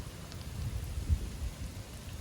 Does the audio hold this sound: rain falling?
yes